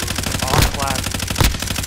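Gunfire in a first-person shooter video game, with dense rapid automatic bursts running throughout and two louder heavier shots standing out, loud and close.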